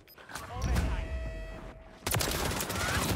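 Gunfire in Call of Duty: Modern Warfare III multiplayer, loud bursts of rapid shots with a voice talking over the first half before a denser, louder stretch of firing.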